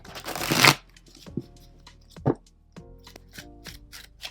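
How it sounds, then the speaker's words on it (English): A tarot card deck is shuffled by hand: a loud riffle burst at first, then a few softer, spaced shuffles and taps of the cards, close and with no talk. "Of course, I'm gonna shuffle my deck."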